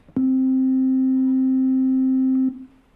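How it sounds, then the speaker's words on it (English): Pure sine wave from the Ableton Operator synth, a single steady clean tone held for over two seconds at constant loudness, starting and stopping abruptly with a faint click, alone. "Same with operator, is just a sine wave."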